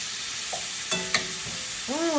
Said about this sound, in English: We are going to put our sausage and our shrimp in here